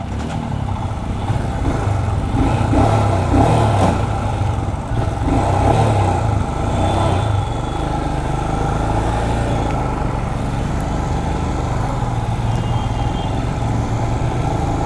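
A motorcycle running low on petrol drones steadily as it is ridden on the road from Srinagar to Kargil. The close, rumbling engine note holds for the whole stretch with small rises and dips in throttle.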